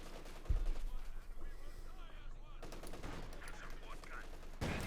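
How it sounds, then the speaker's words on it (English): Artillery and gunfire boom and crackle across a Company of Heroes 2 battle, with a heavy thump near the start and scattered shots, while a commentator talks over the noise. "Artillery fire there, lands behind the machine gun"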